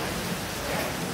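Steady rain falls, a dense even hiss with no pauses, close by and moderately loud, in a setting where a freshly washed motorbike stands.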